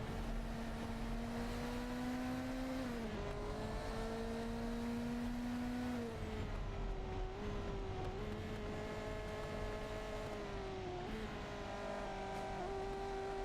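A car driving on a track in the Automation game, a steady engine hum whose pitch holds, dips briefly and climbs again through gear changes, with no talking.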